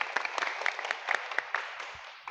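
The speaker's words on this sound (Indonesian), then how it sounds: "tepuk tangan semuanya" Scattered, thin applause from a small group of vocational school students in a classroom, irregular claps fading out gradually, fairly quiet and slightly distant.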